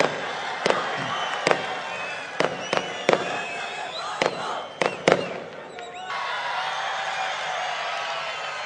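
Firecrackers burst at a political rally, a string of sharp loud cracks over the steady roar of a large cheering crowd, the bangs stopping while the crowd noise carries on.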